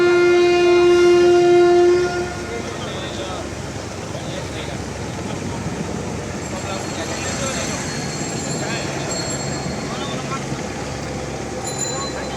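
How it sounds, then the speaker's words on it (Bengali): A passenger launch passes on the Buriganga River: a loud, steady horn blast sounds for about two seconds, then a continuous low engine and water rumble carries on at a fairly even level. "আরেকটি লঞ্চ আসছে, আপনাকে এটি দেখাচ্ছি লঞ্চটি কীভাবে যাচ্ছে"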